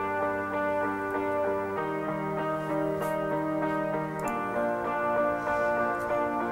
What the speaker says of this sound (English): There's actually a lot of guitars stacked on top of each other.